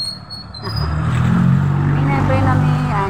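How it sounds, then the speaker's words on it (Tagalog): Vehicle rolling along a road in San Francisco, Bulacan, with a high squeal of noisy brakes at the start, then a louder rumbling engine and road noise that build and continue. "Sorry naman, maingay aming preno."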